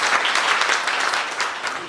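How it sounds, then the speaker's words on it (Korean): Audience at a Korean labor union officials' seminar applauds a speaker onto the stage, a steady dense clapping that fills the whole moment, close and fairly loud with no talk over it. "큰 박수로 좀 환영해 주세요."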